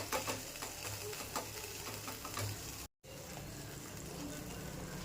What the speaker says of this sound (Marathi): मसाला दोन ते तीन मिनटं चांगलं तेलात परतवायचं आहे